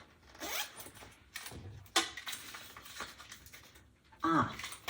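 A pouch zipper is opened in a few short, close rasping pulls, with pauses and light handling noise between them.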